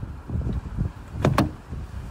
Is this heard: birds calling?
no